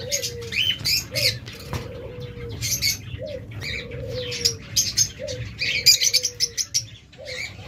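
Several small caged pet birds chirp and tweet busily at close range, sharp overlapping calls over a low cooing and faint wing flutters.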